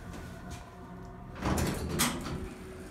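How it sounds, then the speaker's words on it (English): A Westinghouse hydraulic elevator door at a Sears store in a mall slides shut. A steady low hum runs underneath, and a louder sliding rumble rises about halfway through and carries on to the end. "And the door closes up."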